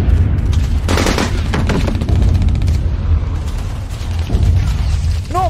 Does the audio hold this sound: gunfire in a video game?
yes